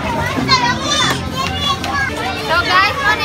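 Children play and chatter throughout the kids area of a floating cottage, with many young voices overlapping in a lively, continuous crowd of shouts and talk close by.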